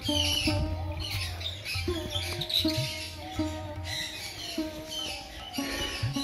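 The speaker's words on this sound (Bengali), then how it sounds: "এখানে রয়েছে প্রচুর পাখি।" Many birds squawk and chirp at once in a busy, overlapping chorus at the Lahiri Baba temple ashram, close by and continuous.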